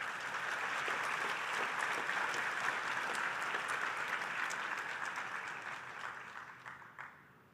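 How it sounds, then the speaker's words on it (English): Sustained audience applause at a medical graduation pledge ceremony, a dense steady clapping from a large seated crowd that holds evenly before thinning and fading out near the end. "Please give another round of applause."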